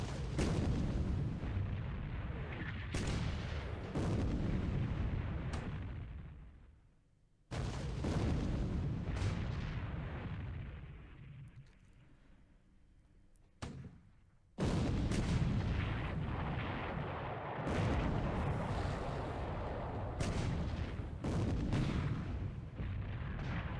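Naval guns fire in the World War II Pacific strategy game War in the Pacific as ships trade shells, heavy booming blasts rolling into long continuous rumbles, broken by a couple of short lulls and a sharp single shot.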